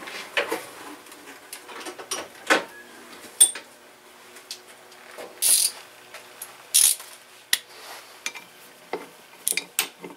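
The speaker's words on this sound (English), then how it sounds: "now I just need a ratchet" A hand ratchet turns a bolt while rebuilding a Briggs and Stratton 16 hp cast iron engine, giving short, close bursts of clicking with pauses between strokes and no talk.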